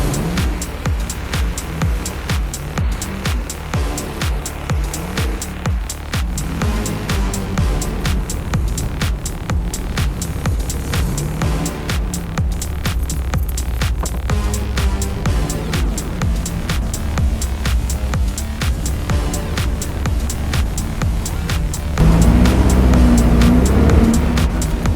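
A Volkswagen Beetle-based Renobug drives on a test run, its engine droning steadily with gear changes and rising revs, loudest near the end.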